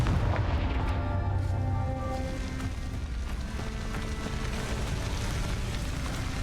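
Repeated fiery blasts from the Confringo spell in the video game Hogwarts Legacy, a run of booming explosions with crackling debris, loud and dense, settling into a rumbling wash.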